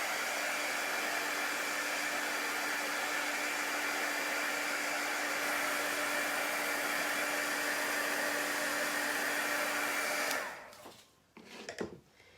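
A handheld dryer blows steadily on chalk paste on a craft project, a loud continuous whooshing hum lasting about ten seconds before it switches off and a few handling clunks follow.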